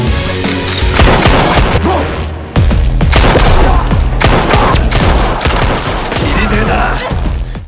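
Dense, loud gunfire from an action film fight scene, with rapid volleys of shots, booms and impacts rattling almost without pause, briefly easing before resuming at full intensity.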